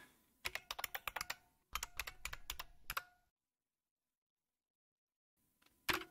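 Rapid keystrokes on a computer keyboard as a password is entered for a software install on Linux Mint, two quick bursts of close, crisp taps followed by silence and a final louder key press like Enter.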